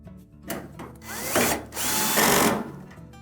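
A power drill drives retaining screws into a Whirlpool washer during a tub support repair. Two close, loud whirring bursts rise in pitch, the second longer and steadier, with quiet gaps around them and no speech.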